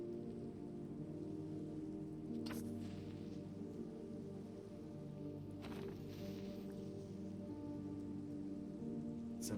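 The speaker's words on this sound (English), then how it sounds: "I think it's like the first time it's properly rained in this world as well." Steady, soft rain falls in a video game world, a continuous hiss with a faint low hum beneath and two brief louder rustles or splashes.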